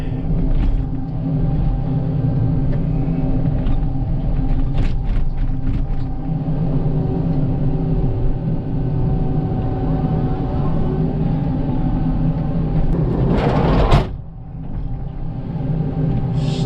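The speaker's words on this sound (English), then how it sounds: "Still grinding away, scraping the peanut butter clay." A Komatsu PC88 MR-8 excavator with a tilt bucket digs and scrapes sticky clay for a house addition, its diesel engine rumbling steadily and loud throughout, with grinding scrapes and a brief harsh burst before the engine note drops.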